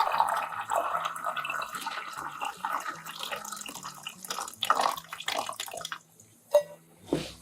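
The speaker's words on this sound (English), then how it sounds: "Rinse it 2 to 3 times every day, depending on the weather, then drain it well." Water rinsing and draining from a carton used to sprout grains, a running, splashing flow with scattered drips that stays fairly steady, then breaks into a few louder splashes near the end.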